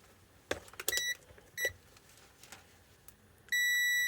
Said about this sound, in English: I'll just check the continuity of these fuses.